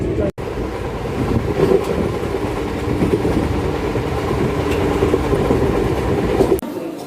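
A passenger train, the Guwahati–New Bongaigaon special, rolls along with a loud, continuous rumble and rattling wheel clatter heard from on board, steady for the whole stretch with a brief dropout near the start.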